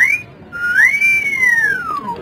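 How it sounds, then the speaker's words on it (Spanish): A person whistles a single sliding tune, rising and then falling over about two seconds, close and clear against a noisy crowd at a live comedy show. "Y tú me das una silbadita"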